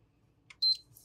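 A PlayStation 3 console gives a single short, thin electronic beep, faint and isolated in a quiet room, preceded by a small click.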